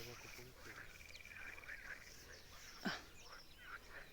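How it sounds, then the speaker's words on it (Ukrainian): Frogs croak faintly by the water on a quiet fishing outing, scattered calls sitting low in the background with a slightly louder croak near the middle, under light outdoor ambience. "Природа, тишина, жабки грегають."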